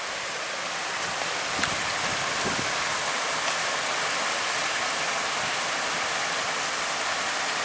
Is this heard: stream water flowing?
yes